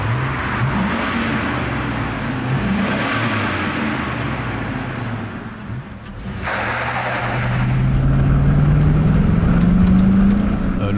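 A high-mileage Chevrolet Tahoe with about 420,000 km accelerating hard on a performance run, engine roaring loudly and rising steadily in pitch as it pulls through the gears, with a brief dip mid-run.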